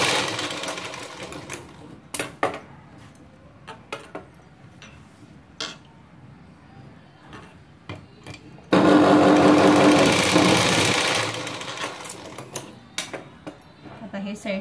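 A sewing machine stitches a princess-cut blouse, first in scattered short taps and clicks, then in a loud sustained whirring run of several seconds before slowing to intermittent bursts. Someone speaks intermittently.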